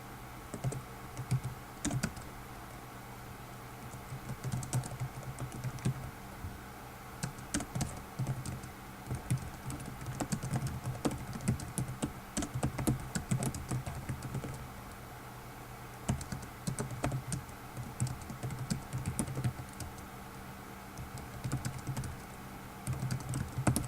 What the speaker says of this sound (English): I'm going to type in the answer to that question